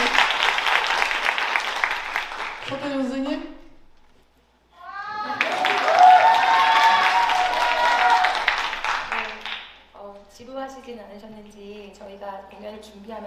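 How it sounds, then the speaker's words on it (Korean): Audience applause at a gayageum byeongchang concert, two bursts of clapping separated by a short pause, each dying away into speech, with people talking afterward. "한 번 더 박수 부탁드립니다"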